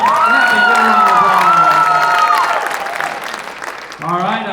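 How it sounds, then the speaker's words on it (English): An audience at the LC Idol talent show breaks into loud, sustained applause and cheering, with a rising whoop carried over the clapping; the noise eases slightly near the end, then swells again. "Give him a round of applause."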